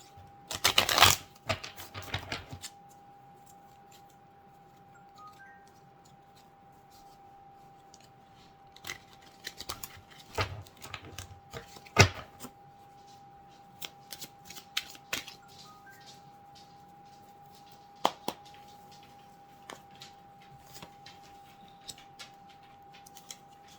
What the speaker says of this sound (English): give a quick shuffle to these cards